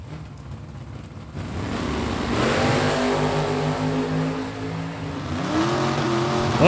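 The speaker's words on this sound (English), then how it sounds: "Right-hand lane, the Chevrolet Camaro, and Jimmy Francisco in the Nova" Chevrolet Camaro and Nova race cars launch side by side down a drag strip, engines roaring loud and steady, then rising in pitch as they accelerate hard toward the finish.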